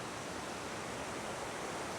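A waterfall on a stream beside a riverside lodging in Laos gives a steady, dense rush of falling water. It fills the scene evenly and sounds close, with no voices.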